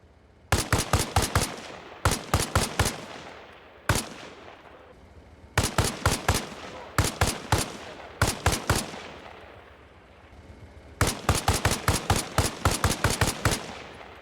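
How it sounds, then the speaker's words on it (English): M80 FMJ rifle rounds in Arma Reforger are fired at a BTR armored vehicle: sharp bursts of rapid automatic fire, some of two or three shots and some longer strings of six or more, separated by short pauses and ringing tails. "Now, let's see if the M80 FMJ rounds can go any better"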